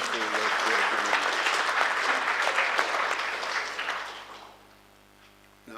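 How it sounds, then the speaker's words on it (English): An audience at a National Executive engagement in South Africa's Northwest applauds the media, giving dense, steady clapping close by that fades out after about four seconds. "please join me in applauding the media for the wonderful work they're doing."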